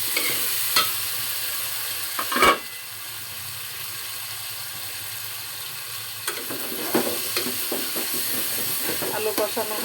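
Potatoes sautéing in a pan for a fish curry, a continuous hiss of frying near and steady, with a sharp clatter of stirring early and more bursts of scraping near the end.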